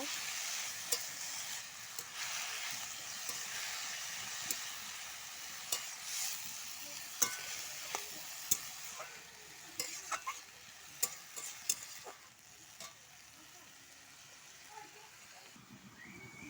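Red amaranth greens fry in a pan under a soft, steady sizzle while being stirred. Sharp little scrapes and taps from the spoon are scattered through it.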